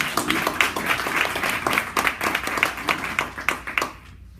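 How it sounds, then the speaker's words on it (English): A story slam audience at a library claps steadily for a few seconds, individual hand claps audible in the mix, then the applause fades out abruptly at the end. "MaryAnn, round of applause, please."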